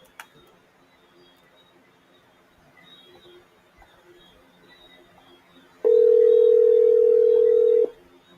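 A telephone call signal sounds once as a single steady tone lasting about two seconds, loud against a quiet background, with no answer and no talking.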